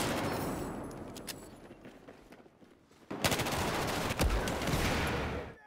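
Rapid automatic gunfire from the shooter game Battlefield, dense bursts of loud cracking shots that thin out briefly before a heavier barrage resumes, all close and continuous.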